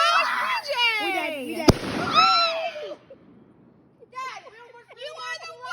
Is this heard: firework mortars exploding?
yes